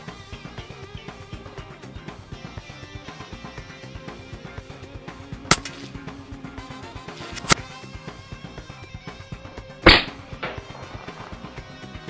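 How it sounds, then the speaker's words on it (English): A Daystate Huntsman Classic air rifle fires at an outdoor target. Three sharp, loud cracks ring out several seconds apart over a steady background hum. "I'm going to see if I can shoot that fly."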